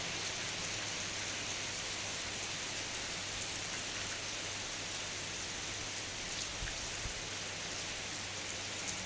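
Steady heavy rain in Ubon, Thailand hisses continuously, a dense, even wash of noise with occasional faint drips and no voices.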